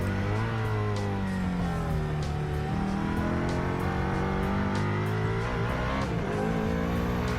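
A supercar engine in a modded Unturned video game cruising at low speed, giving a continuous loud, rasping drone with a motorcycle-like buzz and gentle pitch rises and dips throughout, with no voices.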